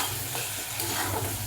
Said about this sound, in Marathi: परतू दे.